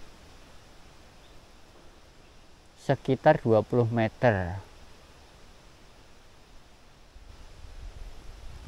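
A spring-fed waterfall in Seloprojo village, Sumuran, produces a steady broadband rush of falling water that runs throughout. A voice speaks briefly over it in the middle.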